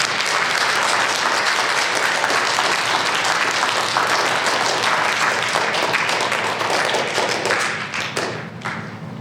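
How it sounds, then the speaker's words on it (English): A school gym crowd claps steadily for DARE program graduates at a 2021 ceremony, a dense, sustained round of applause that fades toward the end. "Dare graduates, give yourself a round of applause."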